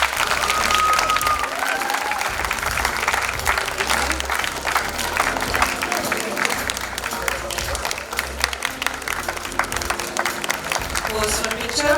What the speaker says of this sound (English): You need to keep clapping louder,